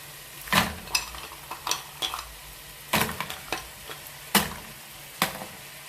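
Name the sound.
mussels frying in a paella pan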